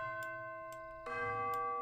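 Sustained tuned orchestral percussion bells from a symphony orchestra software instrument ring together, with soft regular tick-like strikes and a fresh chime entering midway; no talking.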